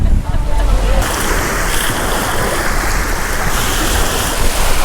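Ocean waves washing onto a Caribbean beach at Jost Van Dyke in the British Virgin Islands, a steady loud surf wash mixed with wind buffeting the microphone.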